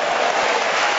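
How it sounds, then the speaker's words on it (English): A badminton crowd bursts into sustained, dense applause after a rally, loud and steady, the clapping filling the whole moment without a break. "the crowd really coming alive"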